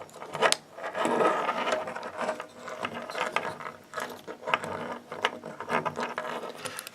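Ratcheting joints on a Transformers Rattrap toy click rapidly and steadily as its plastic arms are moved, close up and alone, in a continuous stream of small mechanical ticks.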